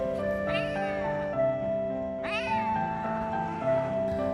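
A tiny, weak kitten, abandoned and paralysed in both hind legs, gives two drawn-out, pleading meows over a steady background hum, close by and fairly loud.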